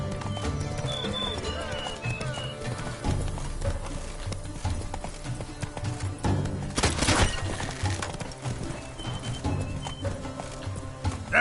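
Hoofbeats of the horse Roach galloping in a PS4 video game, a steady clip-clop rhythm with occasional whinnies, set against game music and ambient sound, continuous and fairly loud throughout.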